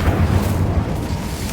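An Incendio fire spell cast in the Hogwarts Legacy video game bursts as a deep, rumbling whoosh of flame, loud and sustained for a moment with a brief crackle near the end.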